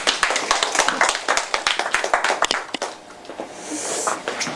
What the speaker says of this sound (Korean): 마이크로소프트의 황리건 과장님께 박수로 맞아주십시오.